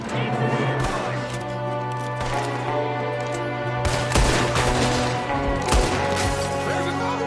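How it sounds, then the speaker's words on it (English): Gunfire in Red Dead Redemption 2, with a quick scatter of sharp shots and louder bangs over a steady in-game music bed, voices talking in between. "There's another one shooting from the window"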